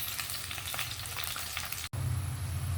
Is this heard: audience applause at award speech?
no